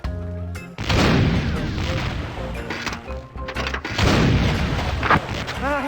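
Gunfire in The Curse of Monkey Island, loud bursts of cannon-like shots and crashing booms in two heavy clusters, alone without talking.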